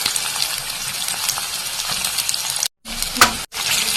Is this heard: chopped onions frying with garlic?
yes